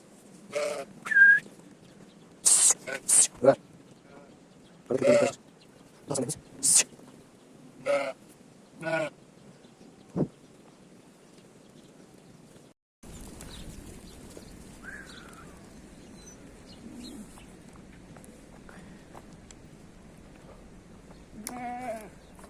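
Sheep and lambs bleat on a Turkish farm, a run of loud, separate close cries in the first half, then quieter mixed noise and a last bleat near the end.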